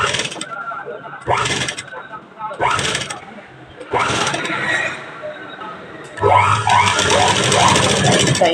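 A sewing machine stitches baby frock fabric in several short mechanical bursts separated by pauses, then runs more steadily toward the end, close and moderately loud, with someone talking between and over the runs.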